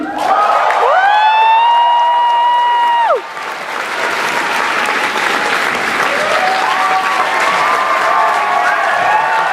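A crowd packed into a fan convention panel room claps for a voice actor being introduced. Dense, loud applause with a few cheers and whoops rises, dips briefly, then swells again.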